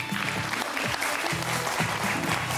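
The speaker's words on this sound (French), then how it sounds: "Applaudissements pour Séverine Ferrer, s'il vous plaît." Studio audience applauding on the French TV game show Motus, a steady dense clapping that fills the room, with faint voices underneath.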